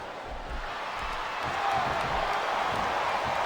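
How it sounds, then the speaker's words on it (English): A capacity arena crowd roars in a WWE SmackDown! vs. Raw 2007 wrestling match, a broad, steady wash of cheering and jeering that swells slightly partway through. "This capacity crowd is making their opinions known tonight."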